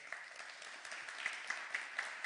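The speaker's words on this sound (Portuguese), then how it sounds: "Ele merece uma salva de palmas." Church congregation applauding during a sermon, a steady stream of moderate, slightly distant hand claps with a few sharper individual claps standing out toward the end.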